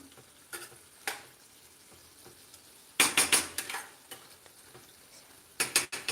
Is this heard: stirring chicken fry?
yes